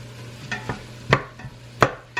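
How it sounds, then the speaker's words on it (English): Butter being stirred as it melts in a pan, the utensil scraping in about five short, separate strokes against a low steady hum, fairly close, no talking. "Now we're going to stir this butter around, get it all melted in here"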